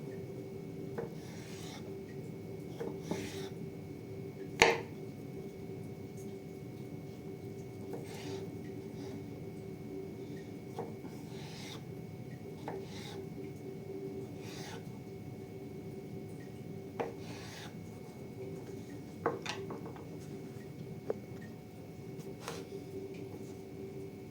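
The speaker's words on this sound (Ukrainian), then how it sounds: "Ріжу моркучку" Knife slicing a carrot on a wooden board for an apple and red beet salad, faint scattered rasping cuts and sharp taps in a quiet kitchen with a low steady hum.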